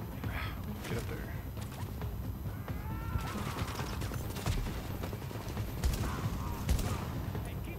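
Shotgun blasts from The Division shooter game ring out as several scattered sharp booms amid other combat noise, partly under talking voices.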